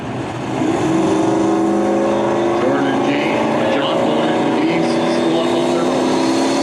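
The drag race car Side Money runs with a loud, steady engine roar that holds a sustained droning pitch at an event, while an announcer talks over it.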